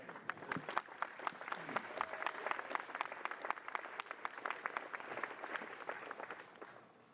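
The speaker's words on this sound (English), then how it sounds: "Let's give him another round of applause as well" Applause from a seated audience at a university building ribbon-cutting ceremony, a steady, dense wash of many hands clapping that holds for several seconds at a modest distance before tapering off near the end.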